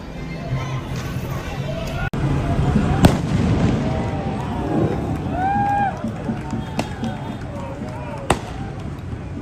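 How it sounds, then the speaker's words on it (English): Fireworks fired by protesters at police horses pop and crack in sharp, scattered bursts, several loud reports standing out over a cheering, shouting crowd in the street. "you can hear the people cheering as they shot fireworks at the horses"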